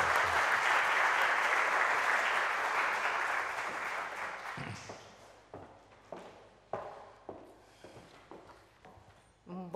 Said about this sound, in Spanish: les invito a dar un aplauso de bienvenida a los participantes